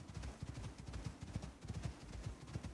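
Horse hooves clip-clop steadily in the Icarus video game, a quick, even run of muffled, low thuds at a moderate distance with no talk over them.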